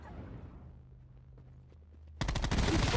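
Gunfire in Call of Duty Black Ops 4 Blackout on the Alcatraz map: after a quiet stretch, a sudden loud burst of rapid automatic fire erupts and continues without letup.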